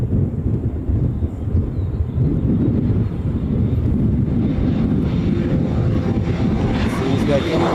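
A jet airliner rumbles past at Kahului Airport on Maui, a loud, steady broadband roar with wind buffeting throughout and a faint rising whine near the end, under some talk.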